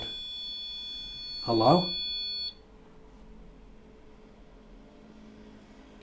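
A REM pod paranormal detector gives off a steady, shrill electronic tone for a couple of seconds, then cuts out. A man calls out over it.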